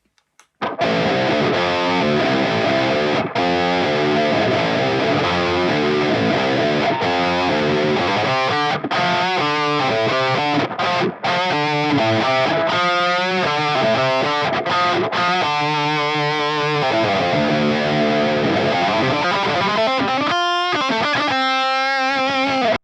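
Heavily distorted electric guitar riffs and chords played through a Boss XS-100 Poly Shifter pedal set a fifth down for a baritone tone, loud and continuous with brief pauses.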